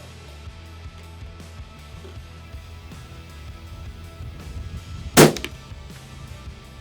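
A single sharp hunting rifle shot cracks out at a rifle range, one loud close report late in the stretch rising over quiet outdoor background, with no talk.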